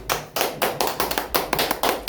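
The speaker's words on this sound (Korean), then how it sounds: "박수 부탁드립니다." Applause from a seminar audience welcoming a professor to the stage: a steady run of rhythmic claps with bursts recurring every fraction of a second, moderately loud and near, with no talking.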